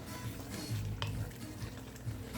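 Chicken livers are stirred in a frying pan, producing a quiet sizzle with a brief clink of a utensil against the pan and soft scraping.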